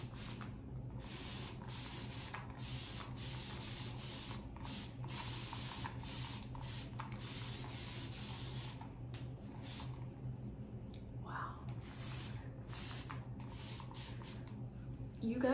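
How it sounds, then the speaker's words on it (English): Repeated short hissing bursts from a spray bottle of aloe vera juice onto long type 4 hair, in an irregular rhythm, close and fairly quiet, over a constant low background hum. "I'm going to take my aloe vera juice and I'm just going to go in and spray my hair"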